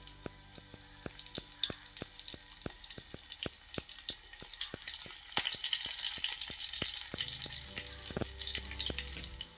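Curry leaves crackling in hot oil alongside garlic, a dense steady sizzle with many sharp pops and spits throughout, loud and close with no voices.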